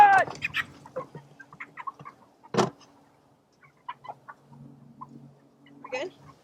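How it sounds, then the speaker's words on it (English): A big cockerel on a chicken farm clucks in scattered short bursts at close range, with brief handling noises between calls. "so we got a big cockerel here"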